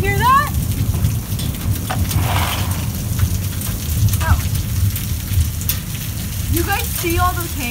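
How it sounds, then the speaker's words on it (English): Hail pelting down outdoors in a steady, dense patter of hard, close impacts, while excited voices call out now and then over the noise. "Hail started again."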